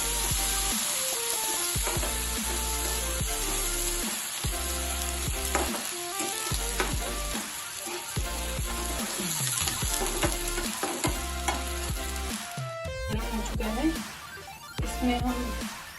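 Yogurt hitting a hot pan on a lowered gas flame while cooking an egg dish: a sustained crackling sizzle with stirring, mixed with background music, lasting the whole stretch and swelling near the end.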